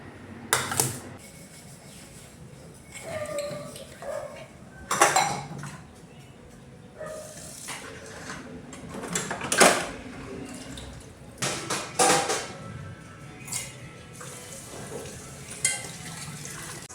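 Dishes and pots being washed under a running kitchen tap, steady water flow broken by repeated clanks and scrapes of steel vessels at close range, no talking.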